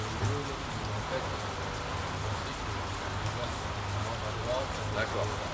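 Steady rain pours on an outdoor surface during a half-court man-to-man defense basketball session, a dense continuous patter with people talking over it.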